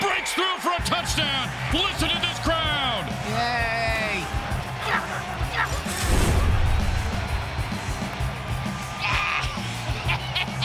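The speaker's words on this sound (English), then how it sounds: "Listen to this crowd." Crowd roars after a touchdown in an American football video game: a steady wash of cheering with whoops and yells rising over it, swelling into a louder burst midway before settling back.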